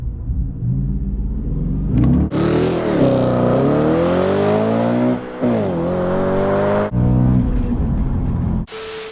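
A high-mileage Audi B7 RS4 V8 roars through repeated rising and falling revs, close and loud, with brief drops between pulls and a deep rumble underneath.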